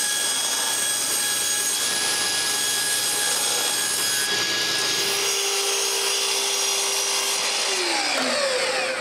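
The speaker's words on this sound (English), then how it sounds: "After this, it's time to cut the platen at the right size." A power saw cuts a wooden platen for an edge sander, a loud steady whining buzz that drops in pitch near the end as the blade spins down, with no talk.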